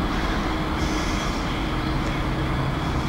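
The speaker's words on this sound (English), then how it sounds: "And a light engine now." A light engine locomotive runs along a railway line, producing a continuous low rumble with faint wheel and rail noise throughout, moderately loud and unbroken.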